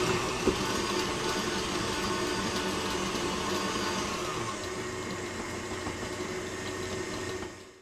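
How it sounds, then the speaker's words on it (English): An electric stand mixer with a whisk attachment whips cream cheese with lemon juice in a bowl for an Oreo and Nutella cake, giving a loud, steady motor whir that runs throughout and eases off at the very end. "I have my whisk attachment there. So I'm just going to cream the cream cheese and add the lemon juice."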